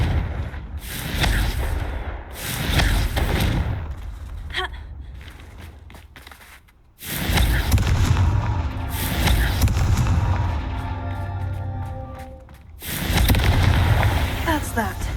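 Confringo spell blasts in the Hogwarts Legacy video game, several booming explosive bursts separated by quieter stretches, with a voice calling out between them.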